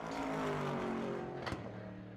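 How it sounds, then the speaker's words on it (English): Chevrolet Camaro race car at an endurance race in New Zealand, its engine winding up loud and close through a gear change on the start-finish straight, with a sharp shift blip near the end and steady engine roar throughout. "Listen to that gear change right on the start-finish line. Wonderful sound as Johnny Mack winds the Camaro up."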